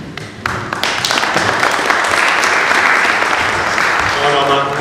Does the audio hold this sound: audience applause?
yes